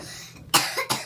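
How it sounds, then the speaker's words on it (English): Two quick, close coughs in a row, the second slightly softer, over a faint background murmur. "Oh my god, you're having a cough."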